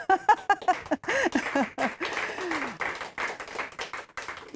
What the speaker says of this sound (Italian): fateci un applauso